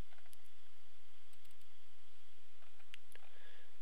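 A computer mouse clicking while playing Universe Sandbox, with a handful of light, close clicks scattered over a steady low hum and faint background noise.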